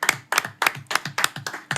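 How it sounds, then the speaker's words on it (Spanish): Brief applause for Jesús on a Spanish-language legal talk show: a small group claps in an even, quick rhythm, about seven crisp, close claps with no voices over them. "un aplauso para Jesús"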